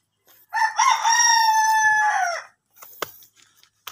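A rooster crows loudly and close, one long harmonic call lasting about two seconds, followed by a few softer clucks and scratchy sounds.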